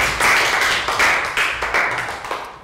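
A class of young schoolchildren claps in a short round of applause after a science lesson answer, the claps coming in uneven bursts with no talking over them.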